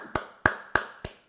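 Four sharp hand claps in a steady, evenly spaced rhythm, close and fairly quiet, marking a birthday greeting, with no voices over them.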